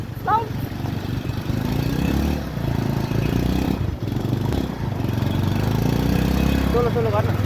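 A motorcycle engine drones steadily on an off-road mountain ride after a gear change, loud and continuous with slight rises in revs, and a voice speaks briefly over it.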